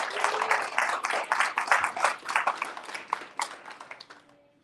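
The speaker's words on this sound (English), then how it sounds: "Big round of applause for all of you." Audience applause at a creator of the year awards event, a dense wash of clapping from many hands that holds steady for about four seconds and then tapers off to quiet at the end.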